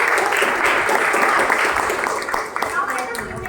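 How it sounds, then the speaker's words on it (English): Indoor audience applause at a talk on personal self-branding, a dense, steady wash of many hands clapping together that holds loud before tapering slightly near the end, with some speech-like murmur mixed in. "Give a big round of applause."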